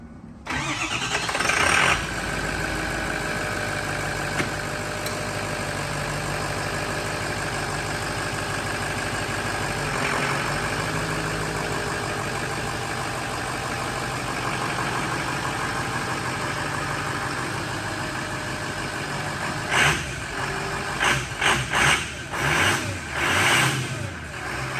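A Ford 6.0 Powerstroke diesel truck with a new Calibrated Power 67mm VGT turbo cranks and fires up, then settles into a loud, steady rumbling idle under an open hood, with a few blips of revving near the end.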